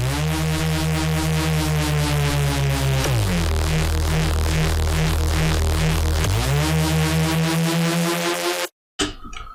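Unfiltered Reese bass from a single Serum layer built on two detuned oscillators, a loud, dense, buzzing sustained tone with a pitch change around three seconds and again near six and a half, stopping abruptly just before the end.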